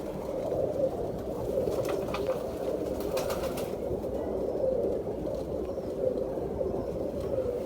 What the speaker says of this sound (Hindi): सियालकोटी कबूतर है